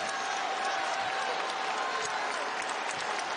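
A college basketball crowd at a Seton Hall versus Butler game applauds and cheers steadily, a dense, even roar of clapping that holds for the whole stretch.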